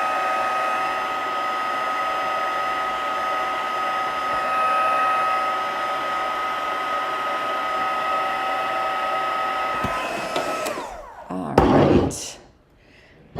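A crafting heat tool blows a steady, loud whirring roar for about ten seconds as it works over embossing powder, then cuts off into brief handling clatter and a short gusty burst before falling quiet.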